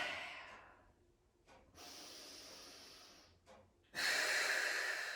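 Long, forceful breaths hiss out during a core strength workout, one trailing off at the start, then a steady sustained exhale, a brief puff, and a final loud, drawn-out exhalation, all close and without talk.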